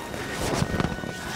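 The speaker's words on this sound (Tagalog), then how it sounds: "Hangin lang siguro yun." A brief rush of wind with low rumbling gusts that swell slightly in the middle and then settle.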